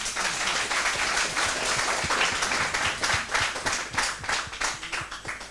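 Outdoor music-festival audience applauding a song, dense steady clapping from many hands throughout, close and loud, with individual claps audible in the mix.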